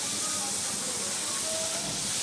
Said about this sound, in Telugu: ఇప్పుడు మనం మెల్లమెల్లగా పూరీలు ఇలా వేస్తూ కాల్చుకోవాలి